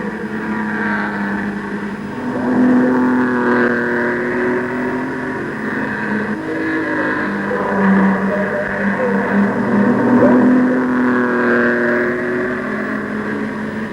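Pre-war vintage racing cars, a Lotus and an Aston Martin, race on a club circuit in 1973, their engines droning and revving in several overlapping tones that rise and fall as the cars pass.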